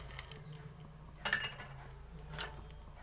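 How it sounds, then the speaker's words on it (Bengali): A spoon stirs sugar, salt and lemon juice into water for a dhokla topping, a quiet background hum broken by two bright clinks of metal against the bowl. "এটাকে মিশিয়ে নిলাম।"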